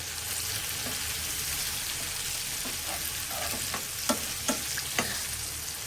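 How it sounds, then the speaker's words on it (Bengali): Onions frying in oil in a pan for a rohu fish curry, with a constant close sizzle and a few sharp scrapes of a spatula stirring near the end. "পরিমাণ মতো পেঁয়াজ দিয়ে আমি পেঁয়াজটা একদম ব্রাউন কালার করে ভেজে নেব"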